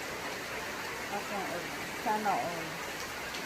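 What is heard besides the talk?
heavy rain falling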